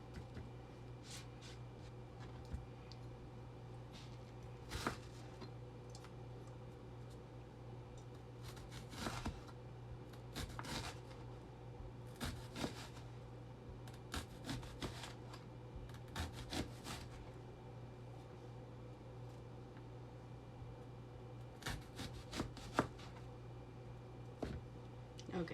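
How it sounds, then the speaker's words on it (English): A kitchen knife slicing an onion on a board, with a series of faint, irregular cutting taps and scrapes spread out over a quiet hum. "Okay, sliced onion."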